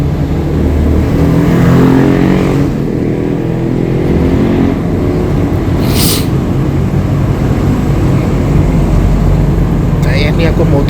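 Gunung Harta executive coach pulling away from the Kampung Melayu stop in Jakarta, a steady low engine rumble with rising revs heard from inside the cabin, a brief hiss midway and faint voices beneath.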